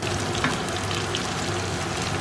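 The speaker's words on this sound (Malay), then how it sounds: "gunakan minyak yang anda guna tadi untuk goreng daging lembu tu untuk gorengkan sayur-sayur ni sekarang" Vegetables fry in the oil left from browning beef for a goulash, giving a steady, close sizzle with small crackles and pops throughout.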